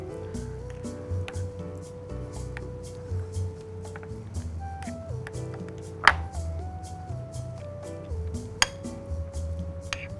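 Carrots being mixed with caramelized butter and barbecue sauce pan drippings produce soft squishing and scraping in a pan, broken by sharp utensil clinks against the metal.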